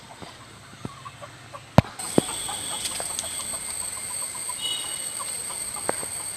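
Chickens roam a yard, clucking in scattered, fairly faint calls over low outdoor background hum, punctuated by a few sharp knocks and clicks.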